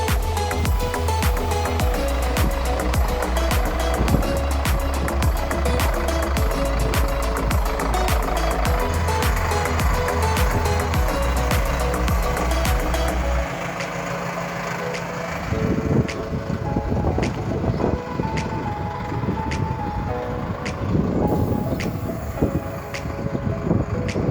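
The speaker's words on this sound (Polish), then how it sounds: "klient odbywa właśnie pierwszą przejażdżkę ciągnikiem" A Zetor Proxima CL 110 tractor engine rumbles steadily nearby with a low, pulsing drone as it drives around a dealer's yard, later shifting to rougher churning and wind buffeting the microphone.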